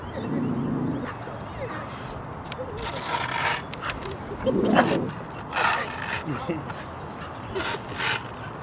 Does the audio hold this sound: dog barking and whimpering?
yes